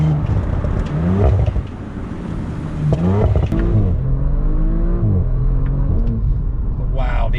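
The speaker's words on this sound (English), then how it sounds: "We have the RS exhaust on this, which is very nice, and you can hear it." A 2020 Audi RS4 Avant with the RS exhaust accelerating, its engine note rising and falling in sweeping revving tones with a deep rumble underneath, loud and close throughout.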